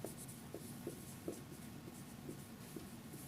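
Pencil or pen sketching a graph by hand on paper, soft scratchy strokes in short irregular taps, quiet and close with no talking.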